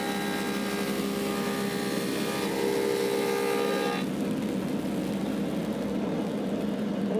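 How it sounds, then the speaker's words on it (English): A Woodmaster 725 planer works an elm slab, a loud steady machine whine with a high tonal hum that cuts off partway, leaving a broad lower drone. "One more dusting with the light plane."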